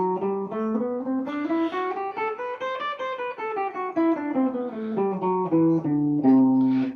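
An acoustic-toned guitar picking a C Lydian mode scale note by note, ascending then descending in an even, clear rhythm, played alone and close.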